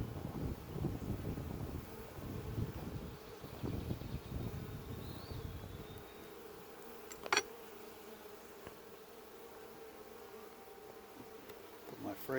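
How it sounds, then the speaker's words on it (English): Honey bees buzz steadily around a caged queen and her attendants in a hive frame, a dense insect drone with some wind rumble, louder in the first half, plus a brief sharp knock near the middle. "there's bees there with the queen and this, her attendants"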